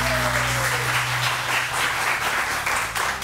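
A television morning-show studio audience applauds a guest, a dense steady wash of clapping across the whole clip, close and loud, with a faint tonal sting fading early on.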